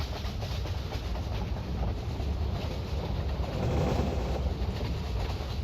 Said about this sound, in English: You get the actual sound of what the train sounds like as you're passing it